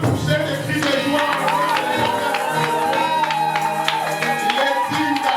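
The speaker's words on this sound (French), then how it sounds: "Est-ce qu'on peut pousser des cris de joie?" A church congregation at a Sunday morning service raises cries of joy and cheers, with scattered claps and shouts over a busy, reverberant room of many voices.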